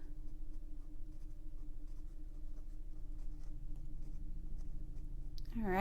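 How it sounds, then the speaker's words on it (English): A pen scratches out a note in a bullet journal, close and quiet, with soft repeated strokes over a low room hum and a brief rustle at the end. "I'm actually going to write a note"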